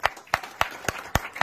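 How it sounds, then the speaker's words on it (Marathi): Audience clapping at a Samarth Social Foundation gathering: six sharp, evenly spaced claps in quick rhythm, close and distinct, with no talk. "जोरदार टाळ्या यांच्यासाठी"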